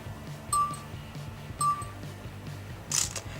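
Huawei Honor 6 Plus phone camera counting down its self-timer with short electronic beeps, three evenly spaced tones about a second apart, close and clear over a low background hum.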